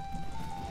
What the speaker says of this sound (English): it's raining pretty hard over here in the Termina fields on the second day